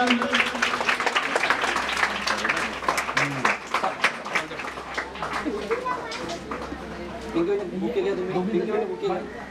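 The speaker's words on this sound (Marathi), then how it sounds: "पुन्हा एकदा सर्वांनी जोरदार टाळ्या वाजवा" A school audience claps loudly and steadily in a dense, sustained burst of applause, with crowd chatter and a voice mixed in throughout, at a village school event handing out free school bags.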